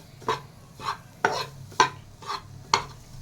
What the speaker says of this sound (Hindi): थोड़ा लो फ्लेम पर इसको भूनेंगे, थोड़ा ही भूनेंगे।